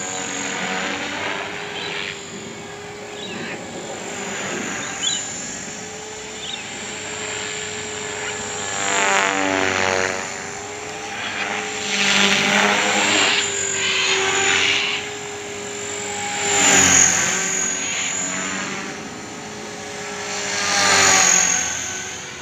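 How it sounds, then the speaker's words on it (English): Rotors of a 450 GT RC helicopter flying at dusk, a steady whirring chop with a high whine that swells and fades as it passes nearer and farther, continuous and alone. "I just love that sound of the rotors, the way it cuts up the air."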